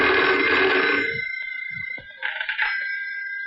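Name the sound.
telephone ringing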